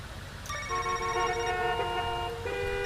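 A phone rings in the video game Knee Deep, a steady, moderately loud tonal electronic ring with layered pitches, running for a couple of seconds over a low background hum.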